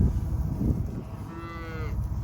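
A single cow moos once, a drawn-out call at moderate distance over steady outdoor rumble and wind, near a corral with calves.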